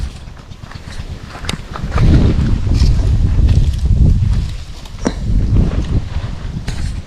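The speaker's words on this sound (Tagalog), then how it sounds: "hangin na po grabe" Strong wind gusts at sea buffet the microphone in deep rumbling waves, building loud in the middle and easing off, with a boat's hull and water faintly underneath.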